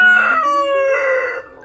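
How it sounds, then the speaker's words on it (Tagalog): A roughly 3.5-kilo Rhode Island rooster crows once on a poultry farm, a loud, close, clear call held for over a second before it trails off. "Ito yung Rhode Island chicken"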